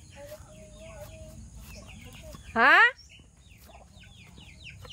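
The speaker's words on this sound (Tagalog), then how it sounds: "ang aming manok." A farm chicken lets out a single loud, rising squawk-cluck over quiet outdoor background, with someone speaking briefly nearby.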